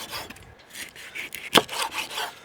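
A knife rasps through firm, ungutted herring in short strokes, cutting it into pieces, with one sharp crunching cut standing out midway, close and fairly quiet.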